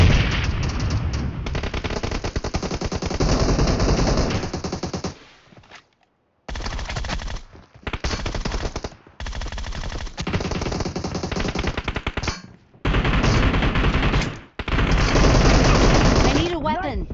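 Heavy automatic gunfire from PUBG Mobile team deathmatch plays loud and close as long rapid bursts with a few brief pauses, with a voice speaking now and then.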